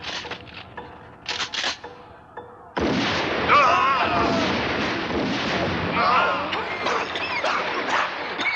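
Film battle scene of artillery shelling and gunfire: a few sharp distant reports, then a dense, loud, continuous barrage of blasts and shots with shouting voices mixed in.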